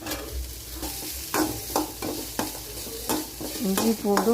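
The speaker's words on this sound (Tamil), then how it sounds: "வெங்காயம் போட்டு நல்லா வணக்குங்க" Onions sautéing in a pan for a vegetable kurma, a steady close sizzle broken by repeated scraping stirs of a spatula, about one every half second to second.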